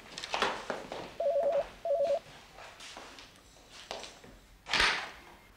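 A telephone rings in two short electronic bursts, with quiet rustling and a thump around it and no one speaking.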